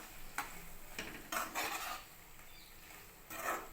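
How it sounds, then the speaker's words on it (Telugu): A spoon scrapes and stirs a pan of capsicum and tomato curry mixed with peanut and coconut paste, giving several short, soft scraping strokes spaced irregularly over quiet background sizzle. "అంతా మిక్స్ చేసుకోండి బాగా"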